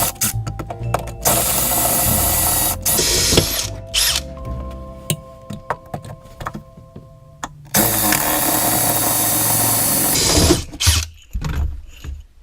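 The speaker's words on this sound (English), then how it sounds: "I'm just going to drill it there and there" A power drill whines in two long bursts, drilling out rivets on a Yamaha Viper snowmobile grab bar, broken by short stops, clicks and metallic rattles in between, close and loud with no talk.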